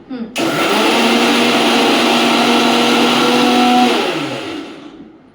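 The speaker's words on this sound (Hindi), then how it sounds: "1 मिनट में मिक्सर चला रहा" An electric mixer grinder running at home, a loud high whirring motor that starts suddenly, holds steady for a few seconds, then winds down and fades.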